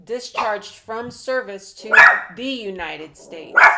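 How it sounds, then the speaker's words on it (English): A female dog barks and yips loudly indoors, close by, in short repeated bursts that overlap someone talking. "So sorry about the dog barking"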